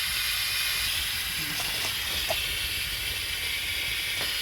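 Steady, continuous hissing and bubbling from a pot of broth boiling on the stove, even in level throughout with a few faint clinks.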